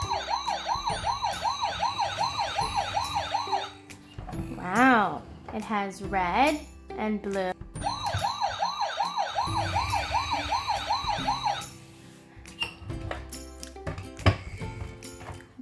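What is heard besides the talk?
toy police car siren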